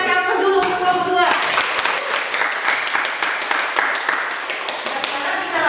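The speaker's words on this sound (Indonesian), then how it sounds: "Berikutnya kita kasih aplaus dulu untuk kelompok 2." Applause from a classroom of students for a presenting group, a dense burst of clapping that starts abruptly about a second in and continues steadily to the end, close and loud, with a voice speaking briefly at the start.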